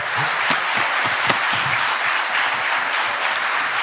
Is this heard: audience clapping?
yes